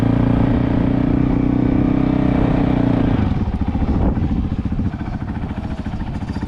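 Dirt bikes on a motocross track: a continuous engine drone from a CRF450L ridden nearby shifts at about three seconds into a rougher, pulsing rasp that could be a YZ65 kid's bike, with no talk over it.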